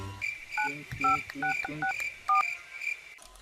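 A rapid run of telephone keypad tones, about nine beeps in an uneven rhythm, clear and close, followed by a brief click.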